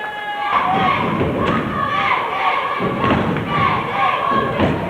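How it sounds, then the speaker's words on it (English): A high school cheerleading squad on the floor at a boys' basketball game stomps in a repeated heavy thudding rhythm while chanting loudly, with the crowd echoing in a big gym. "Patriot cheering squad on the floor."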